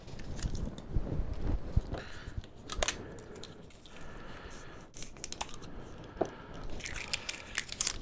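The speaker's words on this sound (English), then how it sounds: "Peel this label off here." A label is torn and peeled from a hot sauce bottle, giving close, irregular crinkling and crackling bursts with brief quiet gaps between them.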